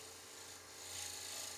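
A woodturning tool scrapes the upper rim of a small maple bowl spinning on a lathe, a steady close rasping hiss that swells slightly louder toward the end.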